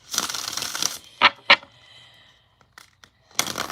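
Tarot cards riffled and shuffled in short bursts, a long rustling run followed by a few quick snaps and another shuffle, close and clear.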